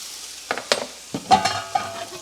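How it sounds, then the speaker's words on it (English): Zucchini with garlic, herbs and tomato pulp stirred in a hot pan, a series of short scraping strokes with soft sizzling in between, close and clear with no talking. "I'm giving everything a quick stir"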